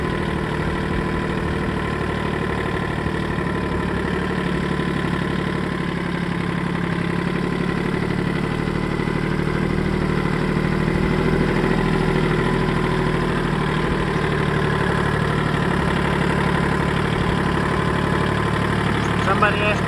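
A Kubota tractor engine idles steadily with the hand throttle set slightly up, a continuous close diesel drone with an even low rumble that holds for the whole stretch without breaks.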